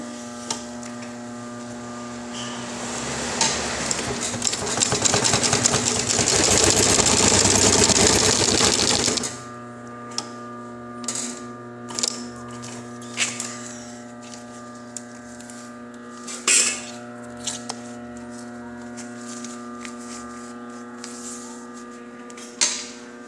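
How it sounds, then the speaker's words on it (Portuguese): A heavy industrial sewing machine stitches canvas in a steady, loud mechanical whir for several seconds. It then stops, leaving a motor hum and occasional isolated clunks and taps. "Essa é a máquina mais pesada que tem da categoria para costurar lona."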